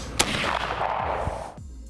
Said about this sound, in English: JP Enterprise flash hider, last shot of the day, last shot that I own right now